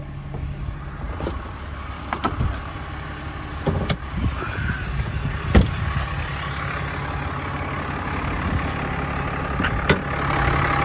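A pickup truck engine idles outdoors, a steady low rumble with a few clicks and knocks on top, heard close and moderately loud.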